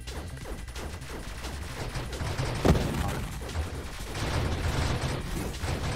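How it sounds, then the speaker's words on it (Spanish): Rapid projectile fire from the space shooter Nova Drift, with a triple-shot build, pours out as a dense, continuous stream of shots, with one sharper crash near the middle and no talk. "como disparo tanto proyectil, da un poco de asquete"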